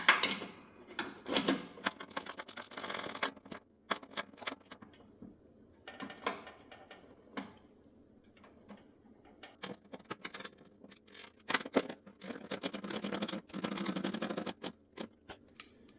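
Bolts on a Husqvarna RZ4216 zero-turn mower deck are tightened with a ratchet, producing bursts of rapid clicking ticks separated by pauses, fairly quiet and close, with no speech.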